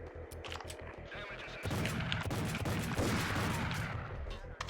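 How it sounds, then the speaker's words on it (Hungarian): Jackhammer shotgun fire in the video game Max Payne, a rapid run of loud blasts that gives way to a dense, sustained roar of gunfire and crashing. "Kemény ez a Jackhammer shot"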